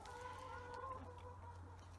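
Chickens cluck softly and continuously nearby, with a low steady hum underneath and no talking.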